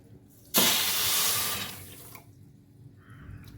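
Water is poured in one quick splash, a loud rushing pour that starts abruptly and tapers off after a couple of seconds.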